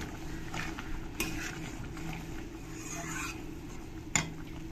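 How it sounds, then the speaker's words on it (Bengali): A utensil stirs prawn malai curry made with coconut milk in a pan over gentle bubbling, with soft scraping and two sharp metallic clinks against the pan. "তো একবার ভালো করে নাড়িয়ে দিতে হবে।"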